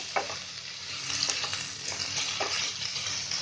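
Chopped tomatoes cook down into a paste in a pan for an Indian tomato chicken, with a steady sizzle and occasional stirring scrapes close by, no voices.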